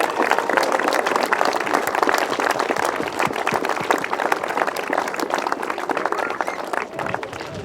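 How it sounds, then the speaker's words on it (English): Sustained crowd applause and clapping at the 2019 British Masters grasstrack event, dense and steady throughout, loud and close with no voices standing out. "we all need to give GTSA a massive round of applause"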